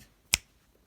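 A single sharp finger snap, crisp and close, standing alone in an otherwise quiet room.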